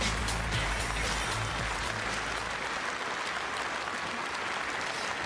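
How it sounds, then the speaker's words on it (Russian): Loud, continuous audience applause at the Novaya Volna 2019 song contest gala, a dense steady clapping that fills the hall and fades slightly toward the end, with no voices over it. "Громкие, несмолкаемые аплодисменты."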